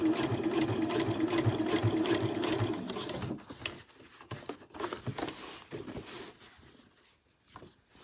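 A sewing machine stitches trim around the corner of a pom-pom cushion cover, running in a fast steady whir for about three seconds, then slowing to scattered stitches and clicks before stopping.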